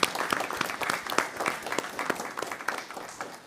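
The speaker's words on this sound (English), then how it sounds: "I think this deserves a round of applause" Scattered clapping from a modest group at a school board meeting, uneven and close, tapering slightly toward the end.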